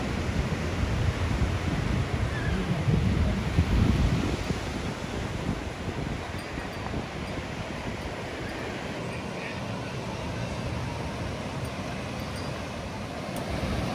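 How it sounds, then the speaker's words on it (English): Slow, flat rolling ocean waves at Sayulita beach in Mexico, a broad steady wash of surf with wind noise across the microphone, swelling in the first few seconds and then settling to a constant roar. "It's slow, flat, just some rolling waves,"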